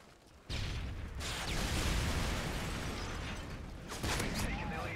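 A frag grenade detonates in Call of Duty, a loud broad blast that kicks in sharply and rumbles on with dense debris-like noise, followed by a second burst near the end, amid game action.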